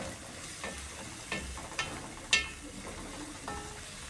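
Onions frying in a pan over medium heat while being stirred, a soft, low sizzle under several light spatula scrapes and clicks against the pan, fairly faint and close.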